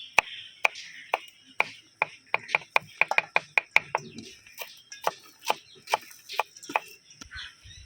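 Fresh coriander leaves chopped on a board for mango pani puri, a run of quick, crisp knife taps in an uneven rhythm, close and clear, with a faint bird cluck in the background.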